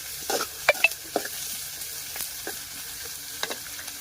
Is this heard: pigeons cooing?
no